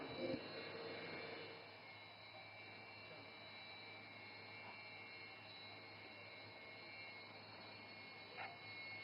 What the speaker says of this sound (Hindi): And notice the aircraft is now opening full power.